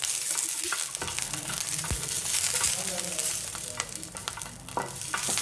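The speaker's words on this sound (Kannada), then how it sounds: "ಅದರ ನಂತರ ಒಣಮೆಣಸು ಹಾಕ್ಕೊಳ್ತಾ ಇದ್ದೀನಿ" Dry red chilies fry in oil on a tava alongside green chilies for a pumpkin sambar, giving a steady, close crackling sizzle with occasional stirring scrapes and clicks throughout.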